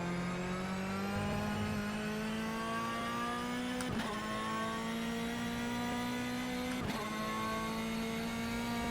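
Mid-engine race car in the rFactor 2 racing game holds a loud, steady, high engine drone that climbs gradually through two quick gear shifts, with no talking.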